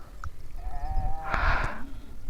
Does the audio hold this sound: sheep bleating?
yes